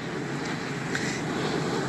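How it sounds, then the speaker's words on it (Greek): A nearby airplane on approach to land at an airport runway, a loud, steady broadband engine roar filling the whole clip with no speech over it. "Έχουμε και προσγείωση την ώρα, οπότε θα έχουμε όλα. Είναι το σημείο που απογειώνονται και προσγειώνονται τα αεροσκάφη."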